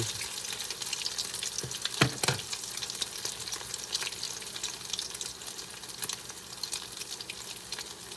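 Salmon patties made without egg fry in a pan with a constant crackling sizzle and occasional sharper pops, close and steady with no talking.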